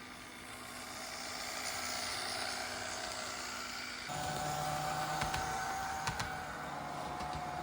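Whiny electric motor of a freshly cleaned and lubricated model train locomotive running steadily, a constant high mechanical whine with a shift in tone partway through and a few faint clicks, no voices.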